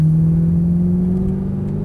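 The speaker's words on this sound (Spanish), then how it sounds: "aceleramos hasta el fondo, hasta el fondo" An Audi R8 accelerates at full throttle, its engine a loud, close, sustained drone with the pitch climbing slowly and steadily, and no voices over it.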